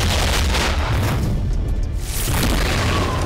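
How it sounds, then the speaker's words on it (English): Byaku gun blasting in a martial arts battlegrounds video game, a dense, loud roaring burst of booming fire that dips briefly midway and then surges again. "It's time to activate that Byaku gun."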